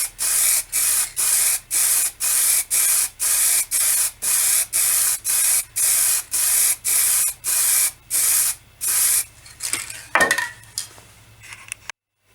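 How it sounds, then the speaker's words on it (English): Acrylic gloss lacquer sprays from an aerosol onto an ebonised wooden seed box in about eighteen short, evenly spaced bursts, close and loud, followed by a few clatters and quieter handling sounds. "the finish I'm going to use today is just an acrylic gloss lacquer. Again, best to have several light coats."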